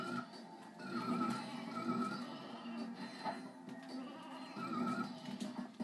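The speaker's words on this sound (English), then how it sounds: "A weapon which quite literally turns your enemies into sheep." Sheep bleats from a transformation weapon in the Ratchet & Clank 2 video game, several wavering animal cries repeating over a steady game background, fairly loud and with no talking.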